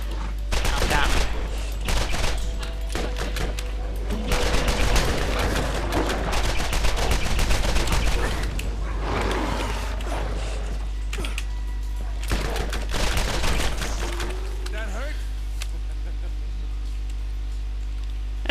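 Dense, sustained gunfire in Borderlands, rapid bursts and clattering weapon mechanics continuing almost without pause over a steady low hum, with occasional voices mixed underneath.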